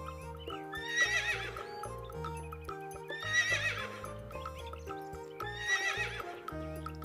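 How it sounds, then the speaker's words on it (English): A horse whinnies three times in a regular pattern, with hooves clip-clopping steadily underneath, close and clear, with no talking. "H for horse."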